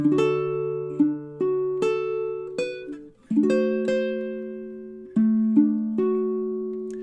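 D: Measures 14 and 15 of a song on baritone ukulele: a series of plucked chords and notes with a brief pause midway, each ringing and fading, close and solo.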